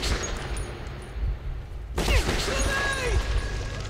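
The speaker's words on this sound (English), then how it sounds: "They're shooting me through that." Enemy gunfire in the Metro 2033 game, bursts of shots and crackling impacts that sharpen and grow louder halfway through, set against a rumbling tunnel background.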